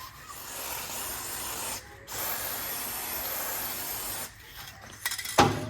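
Two long hissing bursts from an aerosol spray can, close and steady, separated by a short pause, followed by a brief clatter.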